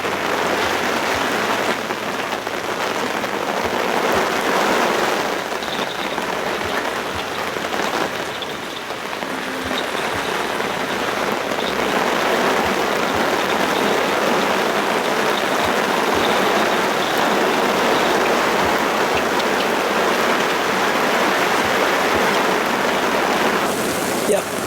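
Steady rain drums on a camper awning and the ground around it, a dense, even wash of patter that runs on without a break.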